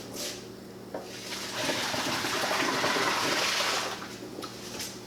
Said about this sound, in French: Et hop, ça va dans le bain glacé. Là, je vais enlever l'eau.